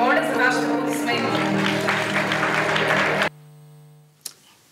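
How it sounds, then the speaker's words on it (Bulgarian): Audience applause at an awards ceremony honoring a hospital director: dense, steady clapping mixed with tonal sound for about three seconds, then cutting off abruptly, followed by near silence and one brief sharp noise. "Моля за вашите аплодисменти."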